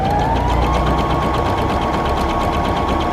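A sewing machine runs steadily at a short 1.0 stitch length while sewing a dense satin stitch, its fast even whirring and rapid needle ticking continuous and close throughout with no talk.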